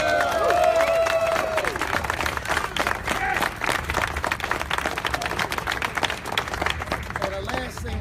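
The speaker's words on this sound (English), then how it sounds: "let's give ourselves a round of applause." A crowd at a Measure S political gathering breaks into a round of applause mixed with scattered cheers. The clapping rises loudly at first and then continues in a busy, uneven patter, with some voices mixed in.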